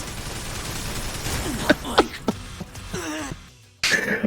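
Gunfire in the mecha game Daemon X Machina, several sharp separate shots and bursts close up over a low background, ending in a brief gap before noise returns.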